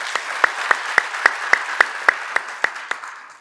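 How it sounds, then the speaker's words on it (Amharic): An audience at a training seminar claps for itself in a crisp, evenly paced run of about a dozen sharp claps that fades slightly toward the end. "እስቲ ለራሳችሁ አጨብጭቡ"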